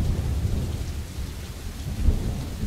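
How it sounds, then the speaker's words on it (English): Rain falls steadily in the video game Tokyo Dark, a dense continuous hiss with low thunder rumbling underneath and a brief deeper swell near the end. "So right now we're out in the rain"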